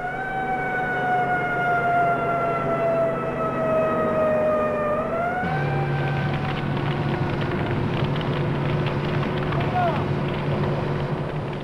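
Wailing fire engine sirens from city pumpers and a hook-and-ladder truck responding to an alarm, loud and continuous, pitch sliding down and then holding steady with rumbling engine and wind noise beneath.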